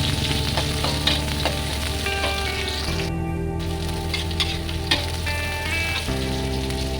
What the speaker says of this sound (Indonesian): Setelah wangi, kita masukkan bawang bombaynya. Kita tumis sampai layu.